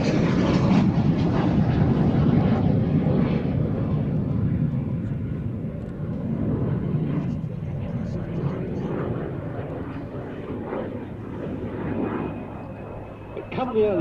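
A de Havilland Vampire jet fighter flies over the Duxford air show with a broad, steady roar that swells and eases slightly, while someone talks over it throughout.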